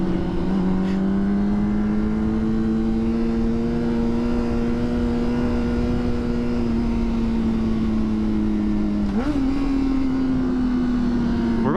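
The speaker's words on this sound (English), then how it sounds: "Dude, his bike is loud." Loud motorcycle cruising right alongside on a road ride, a steady close engine drone holding a constant pitch with a brief rise in revs near the end, no talk.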